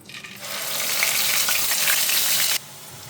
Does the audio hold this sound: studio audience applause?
no